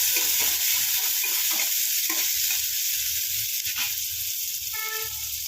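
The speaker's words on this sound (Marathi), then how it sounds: "हा कांदा चांगला तेला परतून" A medium onion sizzling as it fries in hot oil for poha while it is stirred, a continuous bright crackle with scraping stirs, close and steady throughout.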